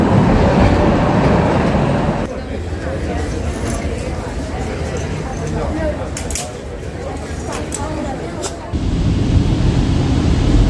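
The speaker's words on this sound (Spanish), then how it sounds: "Y ahora va a pasar el tranvía clásico por aquí." A classic tram passing along a Budapest street gives a loud, close rumble and rail clatter that swells, eases slightly in the middle and then picks up again, with faint voices nearby.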